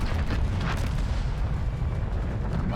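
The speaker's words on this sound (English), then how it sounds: "Fireworks." Dense rumbling booms and crackling bursts of fireworks in the video game Split Fiction overlap continuously, a heavy barrage of explosive pops with no talking.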